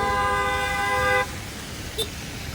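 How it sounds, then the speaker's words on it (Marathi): A car horn sounds one long, steady blast for just over a second, then cuts off, leaving low outdoor rumble and a brief faint chirp. "सगळ्यांना हॉर्न मारत सुटलाय"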